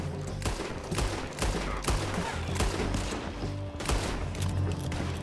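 Gunfire rattles in Red Dead Redemption 2 as repeated sharp shots crack in an irregular volley during a beach firefight, loud and close over a dense background of battle noise.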